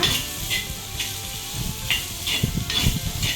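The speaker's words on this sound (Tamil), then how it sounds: "நல்லா வதக்கிக்கோங்க" Small shallots sautéing in a pan of oil for Tamil-style egg thokku give off a steady, close sizzle with spatula stirs and pan scrapes coming in bursts.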